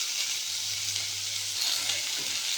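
Hog plums with salt and turmeric stirred in a hot pan give a steady, quiet sizzle and soft frying hiss throughout, with a low hum underneath and no talking.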